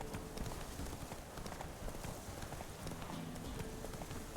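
Roach, the horse in The Witcher 3, runs with a steady, fast clip-clop of hooves on the ground, the rhythm fairly loud and continuous throughout, set within a busy game soundscape.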